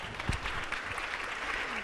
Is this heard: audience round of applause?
yes